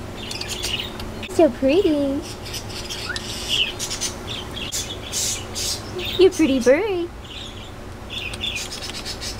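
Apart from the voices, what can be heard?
pet finches chirping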